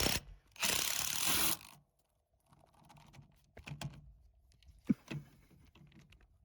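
An impact wrench tightens colored hardware on an Acura RSX, giving one loud, sustained burst of about a second near the start, then quieter clicks and handling noises.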